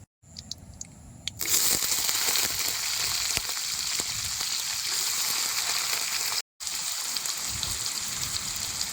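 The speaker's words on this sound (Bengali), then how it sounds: "ধোকা ভাজা তেলের মধ্যে এই আলুগুলো এখন সুন্দর করে বাইজে নেবো" Potatoes frying in hot oil in a pan make a loud, dense, continuous sizzle that starts after a brief quiet moment, crackling steadily up close with a momentary break near the end.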